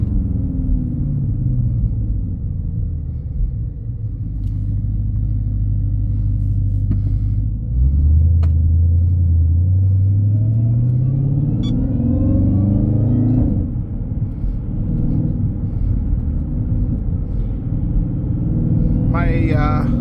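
A Dodge Charger SRT Hellcat Widebody with a 717-horsepower engine and sport-mode transmission rumbles loudly from inside the cabin, its revs rising through a paddle shift with a quick rev-matched blip, while someone talks over it.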